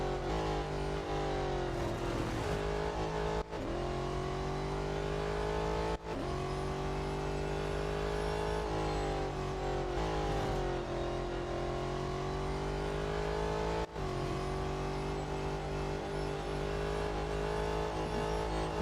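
An LMP prototype race car engine in Real Racing 3 drones continuously, its pitch climbing and dropping through several gear changes with brief dips at each shift, loud and steady throughout.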